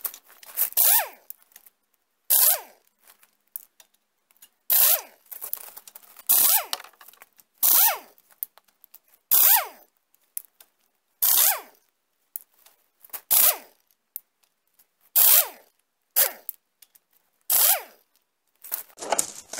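A half-inch socket wrench ratchets out the diff cover bolts on a Dana 35 axle in close, rasping bursts, each about half a second long, repeating every second or two with quiet gaps and no talk.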